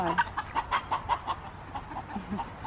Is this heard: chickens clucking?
yes